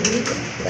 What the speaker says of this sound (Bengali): মিলিবার কালার ভিতরে বিগ সাইজের একটা বড় পায়রা নর কবুতর